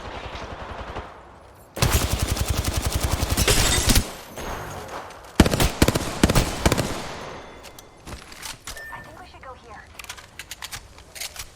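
Bursts of rapid automatic gunfire from the Apex Legends video game crackle in dense volleys, separated by sporadic single shots and quieter gaps, with game effects and voices mixed underneath.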